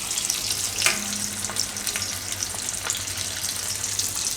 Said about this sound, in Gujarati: તો બધી આપણે આ બનાવીને એ રીતે તળી લઈશું